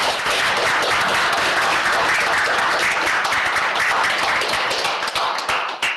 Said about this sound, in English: Can we get a round of applause for all panelists?